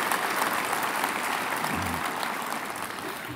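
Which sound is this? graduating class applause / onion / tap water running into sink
graduating class applause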